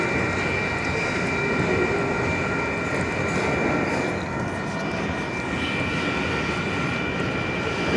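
A Union Pacific manifest freight train rolls steadily past entering the south yard, a continuous heavy rumble of wheels and cars with a held tonal hum, nearby and unbroken.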